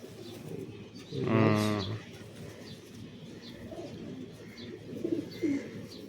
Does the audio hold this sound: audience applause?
no